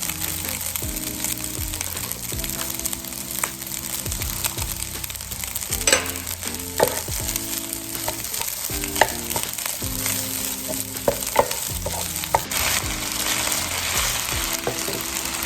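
Rice frying in a pan with butter while being stirred, a steady close sizzle with scraping strokes of the spoon, over background music.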